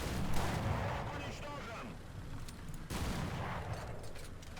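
Type 65 tank cannon firing in War Thunder, a heavy booming report with a rumbling low-end tail, followed after a lull by a second blast, close and loud over continuous battlefield noise.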